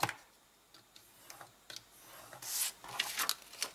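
A small punch tool perforates fold lines in paper, making soft, scattered ticks and short scraping rubs at close range, quiet and irregular, with no talking.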